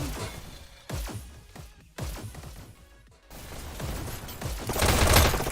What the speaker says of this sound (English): It really shows the power of the double SMGs.